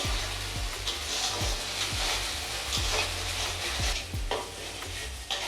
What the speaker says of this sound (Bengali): এই মশলাটা আমি কিছুক্ষণ ভেজে নেব।